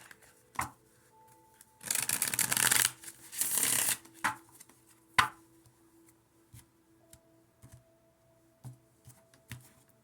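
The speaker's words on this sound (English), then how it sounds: "If I can shuffle this deck" A deck of cards is riffled twice in quick bursts, with a few soft taps and handling noises in an otherwise quiet room.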